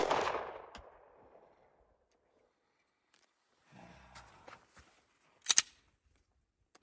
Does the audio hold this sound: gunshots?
yes